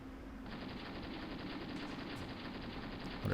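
Gunfire in the Graviteam war video game, heard as a steady, rapid machine-gun rattle with a dense ongoing hum of battle, sounding somewhat distant and fairly quiet.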